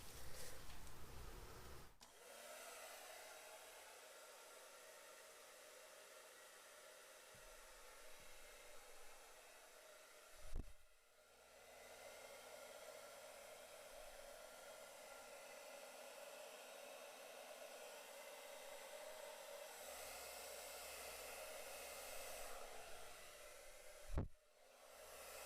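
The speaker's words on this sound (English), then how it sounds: "I'm going to use my blow dryer on cool and low fan." A blow dryer runs continuously on a cool, low fan setting over an acrylic fluid paint pour, giving a steady broadband whoosh. A couple of brief knocks break it, and there is no talking.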